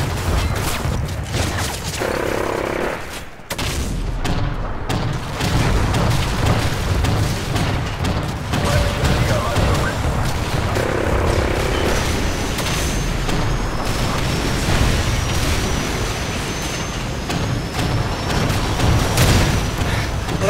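Heavy booming blasts and rumbling impacts of rockets exploding in Call of Duty MW3, a sustained loud roar with scattered pops and bursts, voices faintly mixed in beneath.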